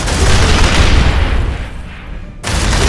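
A grenade goes off in the video game Aliens: Dark Descent. It is a loud, close, heavy boom whose rumble fades over a couple of seconds before the sound cuts abruptly.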